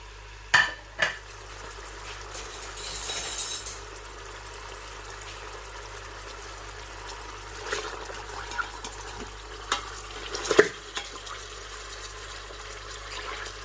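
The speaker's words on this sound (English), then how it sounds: "we're just going to add the meat in" Meat sizzles faintly in an Instant Pot Duo 7-in-1 pressure cooker as it is stirred, with soft scattered clinks and scrapes over a low, steady hiss.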